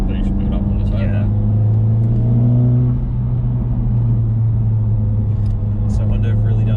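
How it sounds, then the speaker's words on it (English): A Honda Civic Type R FK8 with a turbocharged VTEC engine pulls in fourth gear as boost builds, giving a loud, steady engine drone that climbs in pitch, dips briefly, then carries on. "just leaving it in 4th gear and just letting the boost build up on the turbo"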